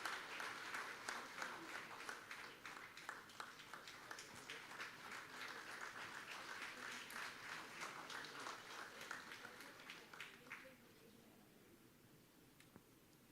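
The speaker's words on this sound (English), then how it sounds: "Let's all congratulate him with a round of applause for his remarkable contributions." Audience applause for an award recipient at the inauguration of the 32nd Swadeshi Science Congress, a dense crowd clapping steadily for about ten seconds before fading to quiet room tone, heard from a distance.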